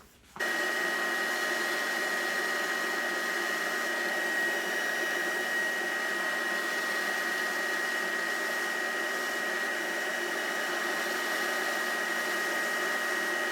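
A Grizzly G0944 1.5 HP wall-mounted dust collector switches on and runs during a router cut with a 1/2 inch bit, giving a loud, steady whooshing drone with a constant whine that holds unchanged throughout.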